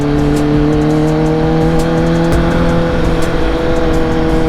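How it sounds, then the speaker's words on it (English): A car with a full-length exhaust drones loudly and steadily, its engine note holding a strong, even pitch close to the microphone with no talking. "the thing I like about this full length 4 exhaust is that it's not like dumb loud all the time until you get into like the power band"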